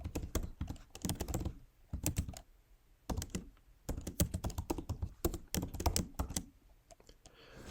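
Computer keyboard typing in bursts of rapid clicks while entering input into a Mathematica notebook, with short pauses between runs of keystrokes, close and moderately loud, no talking.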